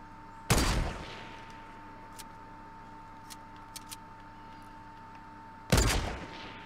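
Two loud single gunshots in the battle royale game Fortnite, several seconds apart, each with a short decaying tail over a quiet low hum and a few faint clicks.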